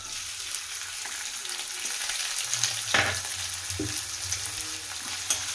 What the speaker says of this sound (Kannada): ಇದನ್ನು ಅಷ್ಟೇ ಒಂದು ನಿಮಿಷ ಈ ರೀತಿ ಫ್ರೈ ಮಾಡ್ಕೊಳ್ತೀನಿ